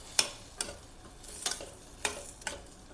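Vegetables being stirred into a pot of sodhi kulambu, a Tirunelveli curry, with about five short, soft scraping strokes spaced unevenly over a faint background hiss.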